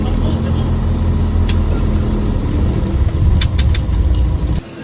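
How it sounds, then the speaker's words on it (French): A truck's engine rumbles loud and close at low pitch, with a few faint clicks on top, and cuts off suddenly near the end. "le camion est arrivé"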